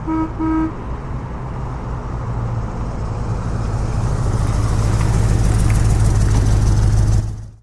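A 1965 Chevrolet Custom C20 truck with a factory V8 drives off after a short double horn toot, its loud engine drone building steadily and close until it cuts off at the end.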